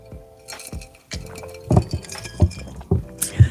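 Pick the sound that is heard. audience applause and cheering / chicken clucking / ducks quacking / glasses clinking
glasses clinking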